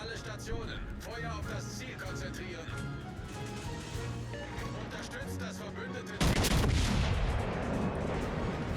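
Heavy battleship main guns firing in World of Warships as the Italian battleship Littorio/Roma shoots at the Georgia, making a dense rumbling barrage and then a louder, harsher blast near the end, with no speech.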